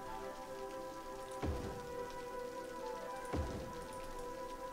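Steady rain in the city-building game Cities: Skylines, a continuous soft patter with a sustained tonal hum beneath and two brief low thumps, quiet throughout.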